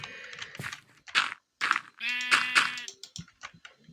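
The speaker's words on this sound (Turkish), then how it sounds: "Koyun girdi valla." Several Minecraft sheep bleats in quick succession, close and clear, with short pauses between them and no talking.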